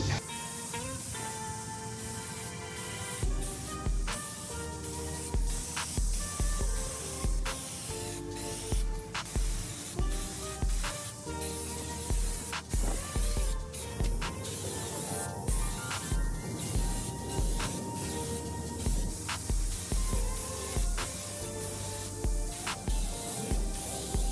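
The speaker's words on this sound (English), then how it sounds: "I'm going to go ahead and use this primer in spray form" A can of spray primer hisses in repeated short bursts close by as furniture is primed, over a steady background of music.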